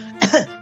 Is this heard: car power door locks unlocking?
no